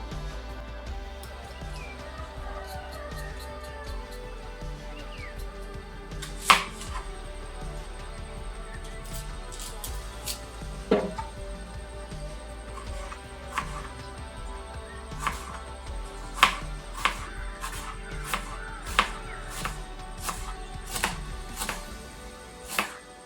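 Knife chopping peeled onion and potato on a board in a home kitchen, sharp irregular taps spaced a few seconds apart and then clustering toward the end, close and moderately loud over a low steady hum.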